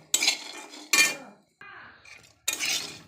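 Three short bursts of a utensil scraping and rattling fried peanuts around a metal pan, separated by brief quiet gaps, with a fainter scrape in the middle.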